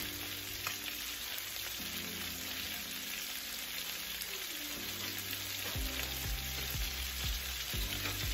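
Pork with garlic frying in a pan over turned-down heat, a constant, even sizzle and crackle with soft scattered pops, moderately quiet and close, no one speaking.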